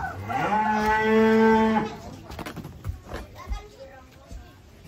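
A large cow gives a long, loud moo of about two seconds while being unloaded from a truck, then shuffling, knocks and a few voices follow nearby.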